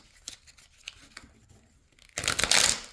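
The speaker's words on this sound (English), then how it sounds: "As you listen to my voice and me shuffle the deck" A deck of cards is handled quietly with a few soft flicks and taps, then riffled in one loud, crisp burst of shuffling near the end.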